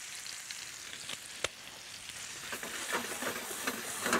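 Apples sizzle steadily in a hot pan as dry mustard is stirred through them, with continuous frying hiss and a few scraping knocks from the stirring.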